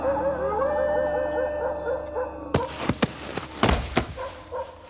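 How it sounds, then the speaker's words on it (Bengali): Several street dogs howl together in long wavering cries, then break off into a jumble of barks, yips and thumps. "রাস্তার সবকটা কুকুর যেন একসঙ্গে কেঁদে উঠল"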